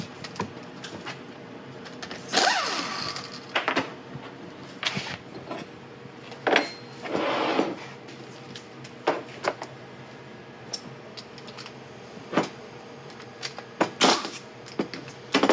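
Honda power steering pump being taken apart on a bench, heard as irregular close metallic clicks, taps and scraping of parts and tools, with occasional brief rattles over a quiet room hum.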